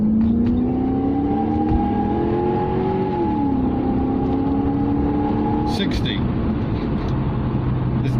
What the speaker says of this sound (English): full 0 to 60 sprint in the Lexus